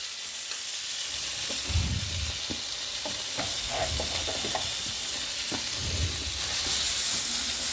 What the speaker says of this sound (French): je vais remettre mes champignons en cuisson avec les oignons